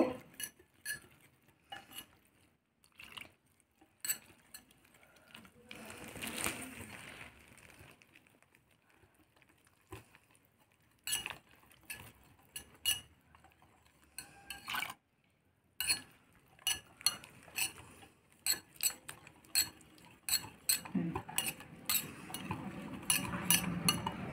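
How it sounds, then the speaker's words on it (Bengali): A spoon stirs milk into semolina batter in a bowl, giving a string of light clinks and scrapes against the bowl in an irregular rhythm, close and fairly quiet. "প্রথমে 1 বাটি মতো দুধ নিলাম, অল্প অল্প করে দিয়ে গুলে নেব"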